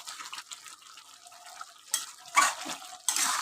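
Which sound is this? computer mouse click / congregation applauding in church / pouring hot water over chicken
pouring hot water over chicken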